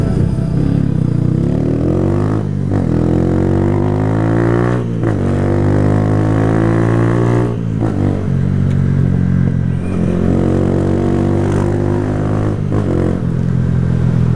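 Engine of a 2008 Honda CG 125 Fan motorcycle on a ride, a steady humming drone that rises and dips with the throttle, close and continuous throughout.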